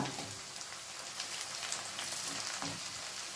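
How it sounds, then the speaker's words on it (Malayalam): Onion sautéing in a pan for tomato chicken, a soft continuous crackle and sizzle like light rain, faint and steady with no voices. "അധികം ഫ്രൈ ചെയ്യേണ്ട, ജസ്റ്റ് ഒന്ന് വഴറ്റിയാൽ മതി."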